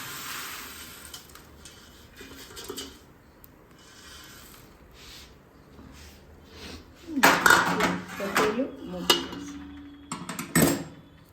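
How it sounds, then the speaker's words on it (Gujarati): Puffed rice (mamra) tipped into a pan of tempering for chevdo and stirred, a loud rattling rush of grains against metal followed by clattering scrapes and knocks, close up after a quieter stretch of faint pan sounds. "હવે આ મમરાને આપણે આમાં એડ કરી દઈશું."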